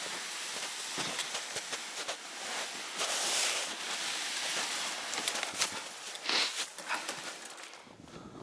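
Wind gusting across a frozen lake in winter, a broad rushing noise that swells and fades in irregular gusts, moderately loud and close with no talking.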